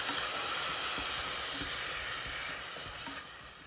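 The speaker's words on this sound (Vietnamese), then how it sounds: "Nga cho cua vô, Nga xào lên." Crab stir-frying in a pot for Vietnamese crab noodle soup gives a steady, loud, hissing sizzle that fades slightly toward the end, with a few faint utensil knocks underneath.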